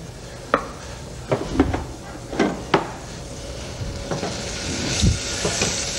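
Onion browning in a frying pan while making a pepper and potato cream soup, a steady soft sizzle broken by scattered sharp clicks and taps of a utensil against the pan, close and moderately quiet.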